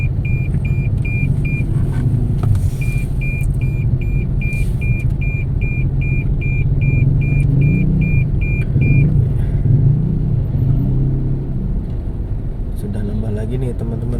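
Steady traffic rumble at the Bekasi Timur toll exit, heading one way from Cawang toward Jatimulya, with a constant low engine drone, a repeating electronic beep through most of the stretch, and a person talking over it.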